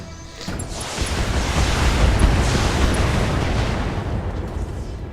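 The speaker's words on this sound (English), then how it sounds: "so I'm just going to use the short-range missiles" A salvo of short-range missiles fires in the BattleTech video game, a sudden launch followed by a sustained rumbling roar of explosions that slowly fades, loud and without voices.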